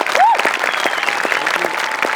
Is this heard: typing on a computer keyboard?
no